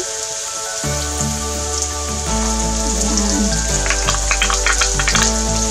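Ginger and onion fry in oil in a pan for a mixed seafood curry, a loud, dense, continuous sizzle with crackling spatters over a steady hum and a few tonal background sounds.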